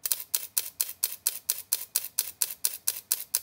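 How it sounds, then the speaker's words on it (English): Fujifilm GFX100S medium-format camera firing its mechanical shutter in a steady burst at 5 frames per second, about seventeen crisp, evenly spaced clicks, close and clear with nothing else audible. "the 5 frames per second with mechanical shutter"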